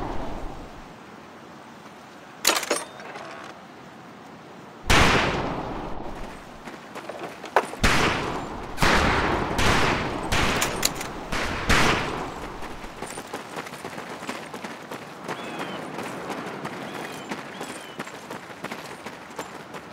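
Rifle shots on a boot camp firing range in the World War II game Medal of Honor Pacific Assault. Sharp, loud cracks come singly and in a quick cluster, and the shooting trails off into quieter ambience.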